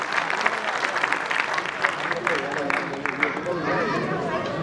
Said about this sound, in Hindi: इनके लिए जोरदार तालियां बननी चाहिए